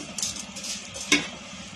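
Rice being stirred with mutton in a pan, a spoon scraping and clinking against the metal, with one sharper knock and a soft sizzle underneath.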